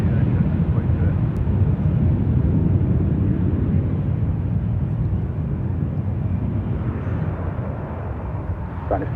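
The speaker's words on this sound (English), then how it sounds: "Heavy 777 departing" A heavy Boeing 777 jet departing San Francisco International Airport gives a loud, sustained broadband roar that holds steady throughout and fades only slightly near the end.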